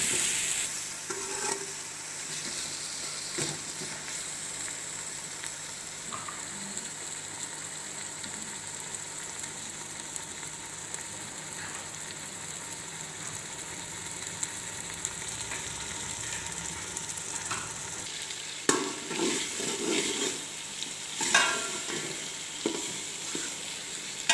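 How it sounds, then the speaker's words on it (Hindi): Ground spices with salt, crushed black pepper and red chillies frying in a pan for a keema pulao, a steady soft sizzle with occasional spoon scrapes and stirring clatter, louder bursts toward the end, no voices. "अब हम इसे अच्छे से मिक्स करके 2 मिनट तक पका लेंगे।"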